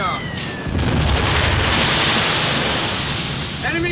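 Warship turret guns boom in a war film, a dense roaring blast that swells and holds for a few seconds.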